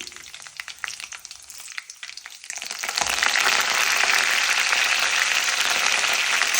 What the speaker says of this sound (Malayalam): കറിവേപ്പിലയും കൂടെ ഇട്ടിട്ട് നമുക്കൊന്ന് ഇളക്കി കൊടുക്കാം